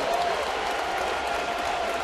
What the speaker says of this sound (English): Crowd loving it here at Safeco Field.